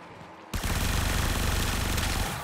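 A dense, loud barrage of automatic gunfire from the game Warframe starts abruptly after a brief quiet moment and continues steadily for about two seconds.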